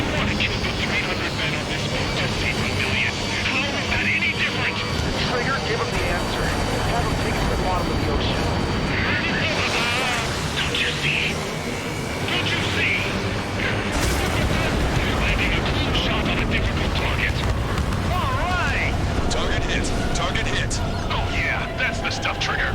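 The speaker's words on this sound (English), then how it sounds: "Confirming explosions. The rail cannon's been destroyed." Continuous roar of jet engines and rumbling explosions in Ace Combat 7: Skies Unknown, with radio-style voices talking over the din.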